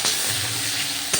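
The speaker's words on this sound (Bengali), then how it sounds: "এই তেলে এই যে আমার হালকা বাপানো যে আলুগুলো, আমি হালকা বাপানো দিয়ে দিই" Parboiled potatoes sizzling in hot oil in a Bengali kitchen, a steady close crackle with a sharp clatter as they drop in at the start and another near the end, no talking.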